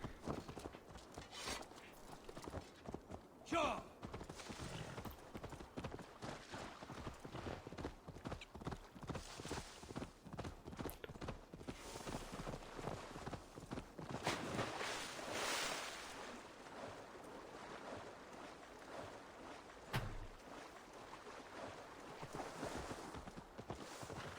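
Steady clip-clop of horse hooves trotting on and on in Assassin's Creed Valhalla, with a rushing, water-like background and occasional clanks.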